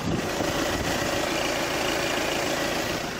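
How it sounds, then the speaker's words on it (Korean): An Audi A6 35 TDI diesel engine idles with the hood open, recorded up close: a steady, even diesel clatter and hum, loud and continuous, with no voices over it. "역시 디젤 엔진답게 디젤음은 들려주고 있지만 굉장히 규칙적인 엔진 사운드까지 잘 들려주고 있는 모습이고요"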